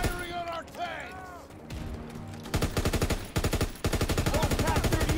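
Rapid bursts of gunfire from a Pak 38 gun in the World War II shooter Call of Duty WWII, loud and sharp, coming in dense repeated volleys after a quieter opening where a voice talks.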